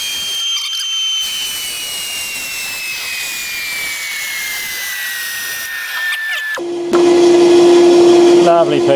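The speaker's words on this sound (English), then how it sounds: "So that went through the bandsaw really nicely." A bandsaw rips through West Indian cedar timber, resaw-thinning it to about 15 mm. A steady, fairly loud whirring cut runs for several seconds, then the motor tone steadies and rises as the blade clears the wood.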